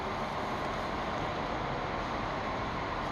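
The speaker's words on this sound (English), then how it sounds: "And here comes the train in backwards." Train pulling into a platform at Wrocław Główny station, running in backwards: a faint, steady low rumble with broad rolling noise and no distinct horn or clanks, and no voices.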